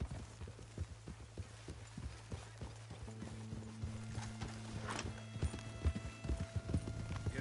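Horse hooves clip-clopping at a steady galloping rhythm in Red Dead Redemption 2, clear and continuous throughout, with a low droning background and no speech.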